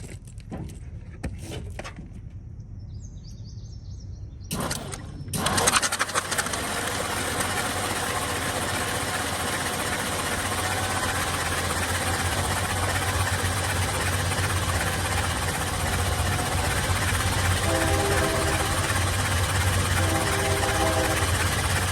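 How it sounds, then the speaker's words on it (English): 1953 International truck engine after 30 years idle, a few brief bursts of starter cranking, then catching and running into a steady loud rough idle with rattles, close, without talk. "So I'm gonna try to keep the starter on a longer time, so hopefully it kicks all that out of there"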